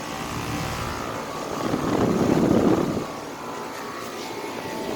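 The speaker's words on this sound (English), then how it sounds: "That is a nice compressor sound. Compressor is still pretty loud even though it has a blanket." A 2000 Carrier WeatherMaker TECH2000 air conditioner's compressor, wrapped in a sound blanket, runs with a steady loud whirring hum that swells briefly in the middle before settling back.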